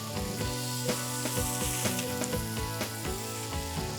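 Albacore fish searing over a wood fire for smoke flavor, a steady close sizzle with crackles and light clatter running throughout, no voices.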